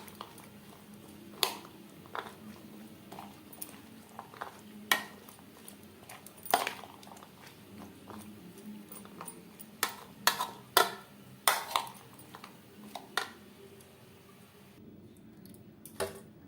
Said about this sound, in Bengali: সমস্ত উপকরণ বেশ ভালো করে মিক্সড করে দেব